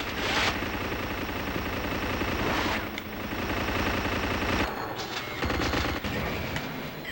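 Continuous loud weapon fire in Unreal Tournament on Sega Dreamcast, dense rapid shots and blasts that cut off briefly near the end before resuming, close and dominant with no talking.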